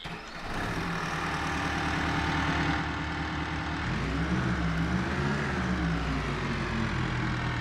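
Pickup truck with a 6.2 engine tuned for a 7.3 sound idles nearby, a steady deep rumble with a low throbbing pulse, briefly rising and settling midway, with no talking.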